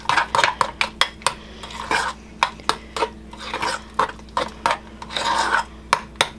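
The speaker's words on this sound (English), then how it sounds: "You mix all of that up." Appetizer ingredients with Worcestershire sauce are mixed in a bowl, giving a run of quick clinks and scrapes of a utensil against the dish in an uneven rhythm, close up and without talking.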